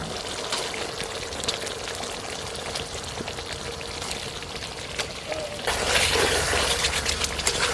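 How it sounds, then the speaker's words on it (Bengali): Whipped sour yogurt poured into a pan of oily spice paste being cooked down for hilsa pulao, a steady pouring and bubbling hiss that swells louder near the end. "এখন দিয়ে দেবো ফেটিয়ে রাখা টক দই।"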